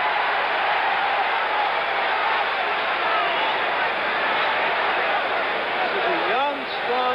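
A boxing crowd roars at a Mike Rossman versus Mike Quarry prize fight, a continuous broad cheering wash with a commentator talking over it.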